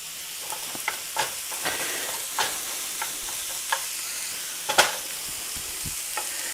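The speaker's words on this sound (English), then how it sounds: "as the bacon and the onions and the garlic are cooking" Bacon, onions and garlic cooking in a well-used pan, a steady sizzle with scattered sharp pops and spatters, close and even, with no voices.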